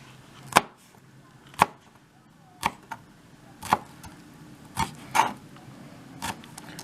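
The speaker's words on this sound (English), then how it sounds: "Then I kind of put it back together and chop the end very finely." A kitchen knife finely chops the end of a pepper on a cutting board for homemade salsa, sharp distinct knocks at an uneven pace, about eight strokes, close and clear with no talking.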